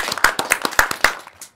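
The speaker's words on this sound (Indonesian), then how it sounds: "Oke, tepuk tangan dong." A few people clapping hands at a casual podcast session, roughly six sharp, close claps in a loose rhythm that thin out and stop within under two seconds.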